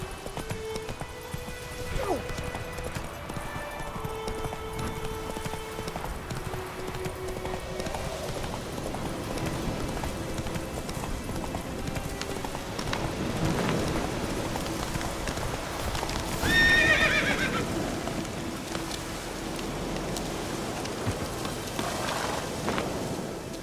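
A horse gallops in The Witcher 3 through rain, steady hoofbeats beneath falling rain and distant thunder rumbles, with game voices speaking over it.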